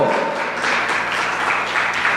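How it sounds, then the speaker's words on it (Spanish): A church congregation claps together in a dense, continuous wash of applause that fills the space at steady loudness for the whole stretch, with no speech over it. "Le dan un aplauso al Señor."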